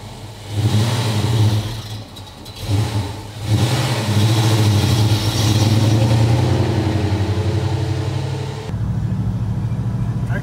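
A car engine fed by an Edelbrock AVS2 carburetor revs and pulls steadily while driving, a loud continuous mid-pitched drone that surges and holds, then eases slightly near the end.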